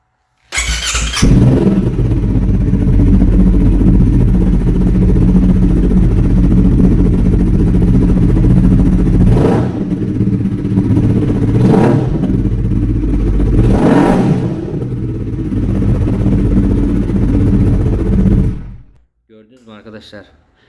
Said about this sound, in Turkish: kıyamet gibi bir egzozu var.